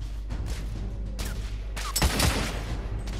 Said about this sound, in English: I'm taking suppressing fire.